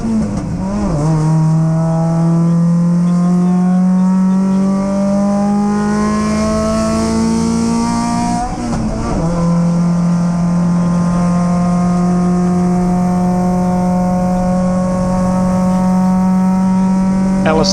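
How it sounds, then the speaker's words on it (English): A Triumph TR7 V8 race car engine drones loud and close, its pitch sliding steadily as revs climb, then dipping sharply at a quick short shift before the rising note resumes. "TR7 V8, yeah. Coming out of MG, short shift."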